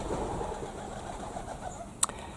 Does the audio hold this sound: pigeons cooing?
yes